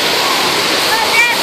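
Rushing water of an indoor water park lazy river, a loud continuous wash of splashing flow with a voice talking over it and a few faint high tones.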